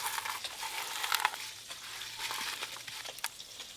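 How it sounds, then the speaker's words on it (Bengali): Spice-coated small river fish fry in hot oil with a soft, steady sizzle and crackle, quiet and close, broken by a few light stirring clinks. "মশলা মাখানো মাছগুলো ভালো করে ভাজা হয়ে গেছে"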